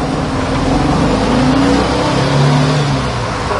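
A 1969 Volkswagen pickup drives off, its air-cooled engine droning loud and close with a rising pitch as it accelerates, accompanied by steady road and cabin rumble.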